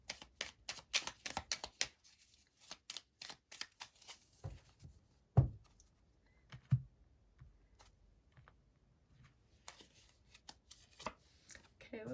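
Tarot cards are shuffled in quick bursts of riffling and snapping, close and fairly quiet, with sparse taps and card slaps between pauses.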